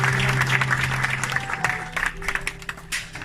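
A church congregation breaks into applause and cheering, a dense wash of many hands clapping that starts full and gradually thins, with scattered voices mixed in.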